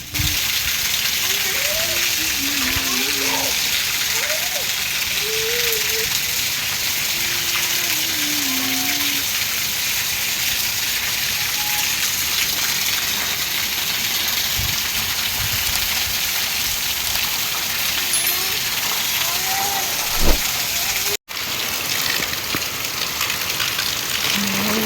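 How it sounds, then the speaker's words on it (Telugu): Heavy nonstop rain in Hyderabad pours in a steady, dense hiss that continues unbroken, with faint voices and occasional tones scattered underneath. "ఫుల్గా వర్షం పడుతూనే ఉంది నాన్ స్టాప్గా."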